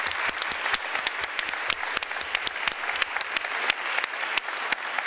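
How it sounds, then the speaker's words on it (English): An audience at a Stockholm talk on the EU as a global actor claps steadily for several seconds. The applause is a dense, even patter from a moderately distant crowd. "Please join me in applaud."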